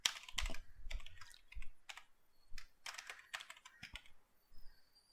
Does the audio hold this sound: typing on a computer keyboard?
yes